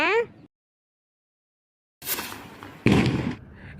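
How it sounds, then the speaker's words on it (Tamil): Sharp, loud bursts of a Diwali firecracker crackle after a quiet gap, with a brief tonal sound at the start. "அடுத்தது மறுபடியும் ஒரு ஆங்கிரி பேர்ட் வெடி தான் வைக்க போகிறேன் பார்த்துக்கோங்க"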